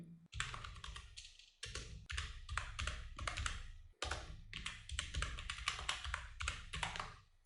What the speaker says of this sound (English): let's type anything, whatever you want to type